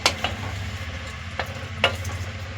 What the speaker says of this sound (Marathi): मसाल्यांमध्ये ही व्यवस्थित परतून घेणार आहे आपण फुलकोबी